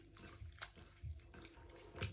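Salted snake gourd being rinsed with water in a kitchen, soft splashing and sloshing with a few hand-stirring bursts, quiet and close, no talking.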